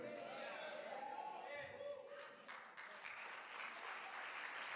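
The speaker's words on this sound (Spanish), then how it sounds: "Si va a aplaudir al Señor" Church congregation clapping during a sermon, a moderate spread of applause that swells partway through, with a voice speaking over it near the start.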